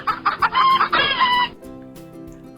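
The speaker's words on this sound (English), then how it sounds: "let's hear what a real chicken sounds like" A real white farm chicken clucks and squawks in a quick, loud, close run of calls. The calls then give way to quieter farmyard background.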